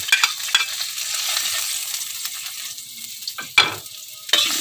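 Garlic sizzling in hot cooking oil while being stirred in a pan, a steady bright hiss broken by a few sharp scrapes and clatters of the utensil, close and fairly loud.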